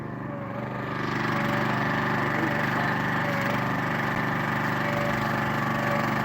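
Wood splitter fitted with a four-way splitter head, running on an off-grid homestead in Tennessee in January, gives a steady, loud engine drone with a constant hum that holds unbroken throughout.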